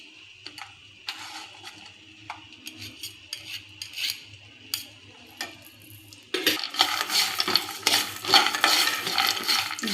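Almonds roasting in ghee in a pan over a low flame for almond candy, with a steady sizzle and frequent spoon scrapes and clinks. The sizzling and stirring grow noticeably louder and busier partway through, and no one speaks.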